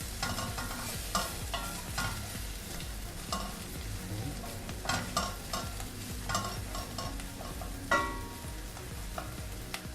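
Butter beans sizzle in melted butter in a pan as they are stirred and tossed, with a steady frying hiss broken by repeated scraping and clattering from the stirring, no voices.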